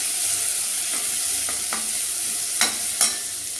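Onions sautéing in a pan, a loud even hiss throughout with a few soft scrapes and two sharper knocks of a spoon stirring near the end; no voices.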